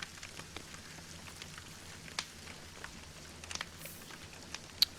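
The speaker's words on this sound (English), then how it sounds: "it's been raining all day long" Rain falls in The Sims 4 as a soft, steady patter, quiet and even, with scattered sharper drops landing on surfaces and no talking.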